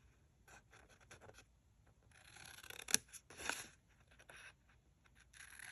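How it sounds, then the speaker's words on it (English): Scissors snip through paper while cutting out six small boxes for a hot cocoa caddy craft, a series of close, quiet cuts with brief sharper crunches in the middle. "So just go ahead and cut all those 6 little boxes out that we created."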